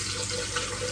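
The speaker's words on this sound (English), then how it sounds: "Just rinse it out real quick." Tap water runs steadily into a container being rinsed out under the faucet, a brief, constant splashing rush with no voices.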